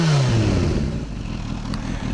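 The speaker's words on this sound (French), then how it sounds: "On va en profiter pour vous faire écouter le petit Acra bien évidemment." Kawasaki ZH2 fitted with an Akrapovic exhaust, revving loud and close as the engine pitch swoops down into a rough, throaty rumble that holds steady to the end.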